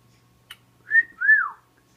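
A person whistles two short clear notes, the second sliding downward, after a brief click, in an otherwise quiet room.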